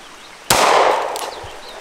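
A single sharp pistol shot aimed at a Red Bull can beside a plate, loud and close, with a bright crack followed by a short decaying echo and a faint distant tail.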